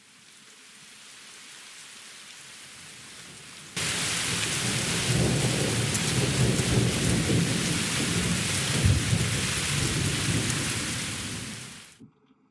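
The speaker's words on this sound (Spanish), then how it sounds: "luego empieza a llover súper fuerte, se queda lloviendo fuerte y luego escampa brusco" A rain sound effect begins as a soft, light patter, then abruptly turns into a loud, heavy downpour with a deep rumbling undertone, holds steady, and cuts off suddenly at the end.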